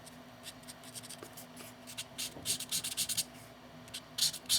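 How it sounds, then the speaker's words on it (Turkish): The fine tip of a marker draws on paper while sketching an illustration, giving soft, close scratchy strokes in short repeated bursts that grow more frequent toward the end. "Göz çevrelerini biraz daha belirgin tutabilmek için ince ucuna geçtim markerın."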